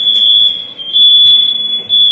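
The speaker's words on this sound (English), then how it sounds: "Fire alarm, fire alarm, fire alarm." A smoke alarm blares a loud, steady high-pitched tone that runs the whole time with brief dips, set off by an air fryer cooking salami tacos in an apartment kitchen.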